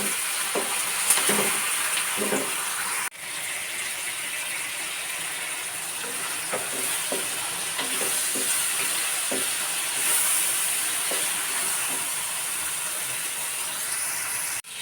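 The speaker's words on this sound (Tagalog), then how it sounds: "Ngayon, igigisa na natin ang ating sibuyas." Onions and garlic sautéing in a pan for Filipino pork menudo, a steady broadband sizzle and hiss with scattered scraping clicks from a utensil, close and fairly loud, with no talking.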